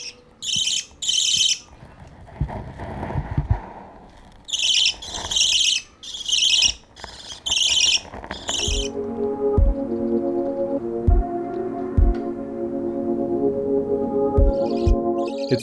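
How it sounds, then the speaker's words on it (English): Baby budgies chirp loudly in shrill, rapid bursts, calling to be hand-fed, alternating with quieter stretches and soft background tones, close and insistent. "As soon as they notice me or hear the sound of mixing food, they start chirping loudly and calling for me to feed them."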